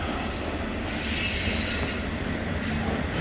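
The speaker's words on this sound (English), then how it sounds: "Got lots of trains today, and this is a long one. I think this one's going to the steelworks." A long freight train bound for a steelworks rolls past steadily, with continuous rumbling wheels and high squealing metal on the rails, loud and close throughout.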